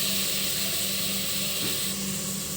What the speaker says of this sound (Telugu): చూడండి ఎలా ఫ్రై అవుతుందో